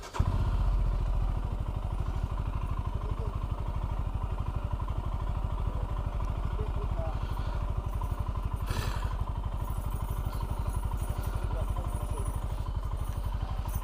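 Royal Enfield Himalayan motorcycle idling and setting off on a camping and green-laning trip in Devon, a steady close single-cylinder engine thrum running throughout with a brief clatter midway, voices talking over it.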